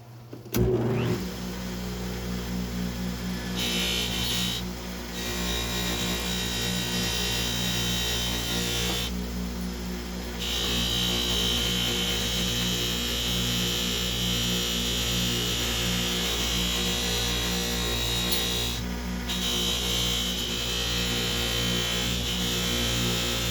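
A power polishing tool runs steadily on a stretched wedding band ring, giving a continuous close motor whine with a rubbing buff that holds for the whole stretch after a brief start.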